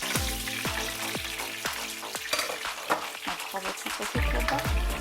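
A fillet fries in a pan with a dense sizzle under a run of regular knocks from a utensil stirring and scraping, close and fairly loud throughout.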